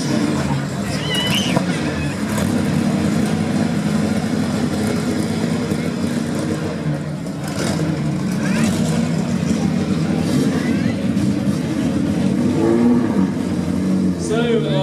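An old classic car engine revs loudly and roughly nearby at a concours show, rising and falling, while a crowd murmurs in the background.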